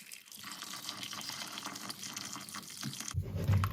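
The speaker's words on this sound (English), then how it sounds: "I'm now going to add some boiled water" Boiled water pours steadily into a pan of potatoes for a beef and bacon stew, a continuous splashing gush that grows fuller and louder toward the end, close by with no talking.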